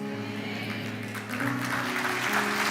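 A church congregation applauds at an evening worship service, with steady clapping that swells louder partway through and is layered over sustained music tones.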